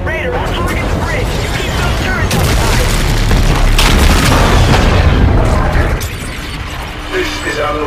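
Booming explosions and rattling gunfire erupt during an assault on a supercarrier in Call of Duty: Infinite Warfare, loud and continuous with heavy low rumbles, while voices shout over the battle.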